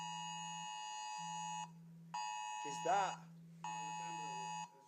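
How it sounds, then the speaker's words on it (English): An Amber Alert sounds on a mobile phone indoors as loud steady tones in repeated bursts separated by short gaps, with a person briefly talking between them. "My phone. Oh, an Amber Alert."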